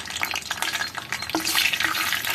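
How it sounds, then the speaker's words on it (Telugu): Chana dal and urad dal frying in hot tempering oil for lemon vermicelli pulihora, a steady close crackle and sizzle with a few stirring scrapes, no talking. "మినపప్పు, శనగపప్పు కొంచెం వేగాలి."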